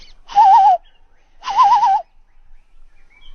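An outdoor bird gives two separate warbling, hoot-like calls, each about half a second long with a short pause between them, clear and fairly close with no other sound around them.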